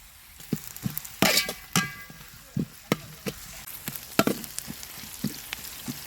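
Sliced large onions, about ten green chillies and curry leaves fry in hot oil for a brinjal varuval, crackling and sizzling with sharp pops and spatula clinks, close and moderately loud, with no talk.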